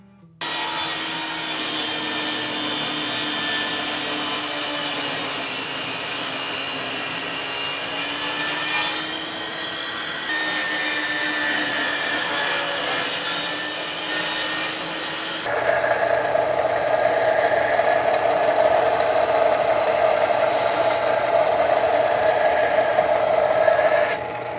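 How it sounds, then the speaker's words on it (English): A table saw cuts wood for a pen box, a continuous loud whine and rasp of blade through timber that shifts pitch partway through and keeps going, with no talk. "we'll cut that off on the table saw."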